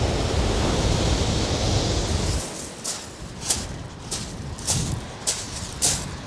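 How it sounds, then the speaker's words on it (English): Strong wind roars and buffets across the shingle of Chesil Beach, a dense hiss that eases midway, leaving surf washing in faint repeated swells. "Crikey, that wind."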